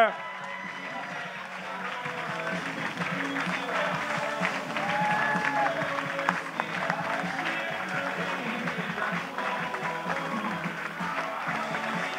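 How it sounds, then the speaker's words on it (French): A closing-ceremony crowd applauds as a foundation team walks onto the stage, sustained clapping at moderate distance with cheering and voices mixed in throughout. "on soutient les applaudissements le temps qu'ils arrivent sur scène"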